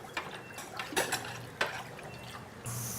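Sewage water is mixed with EcoClean 50, a bactericidal reagent, producing faint liquid sloshes and a few soft clinks against a quiet background.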